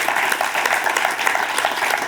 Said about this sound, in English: can we just have a round of applause for Mark?